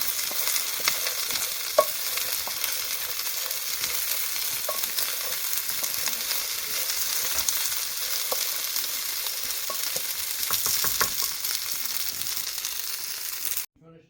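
A slow-cooker fish pie mixture being stirred, a continuous soft scraping and swishing of a spoon through the mixture, fairly close and steady, ending abruptly.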